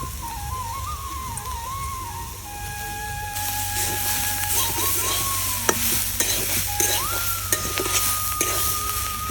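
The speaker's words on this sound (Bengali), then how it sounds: "এইবার আমি দিয়ে দেবো, এটা অর্ধেক চিংড়ি দিয়ে দেবো।" Shrimp sizzles and fries in a pan with turmeric, with steady crackling and frequent scraping stirs and occasional clinks of utensil on metal, close and continuous without talk.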